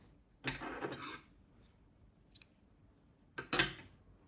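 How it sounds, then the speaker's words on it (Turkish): Scissors snip through crochet yarn on a baby dress in two short, crisp bursts separated by a quiet pause, close and fairly faint. "İpliği kesiyorum."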